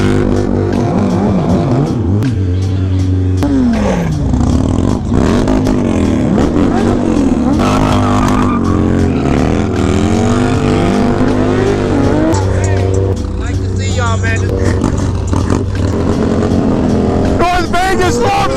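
Motorcycles rev hard and roar along a North Las Vegas street during wheelie riding, with rising and falling engine whines, overlapping passes and tire squeal, while people shout and cheer loudly over the constant, close engine noise.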